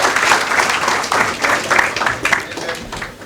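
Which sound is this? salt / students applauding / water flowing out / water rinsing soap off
students applauding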